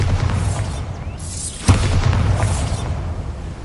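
A Bombarda spell blast in the game Hogwarts Legacy, a single deep booming burst with a whooshing swell over a dense, steady rumble of game sound.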